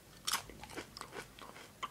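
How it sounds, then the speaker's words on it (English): Crunchy bites into a fried onion ring, several sharp crackling crunches spread over under two seconds with chewing between, close and fairly quiet, no talk. "let me just let you hear the crunch"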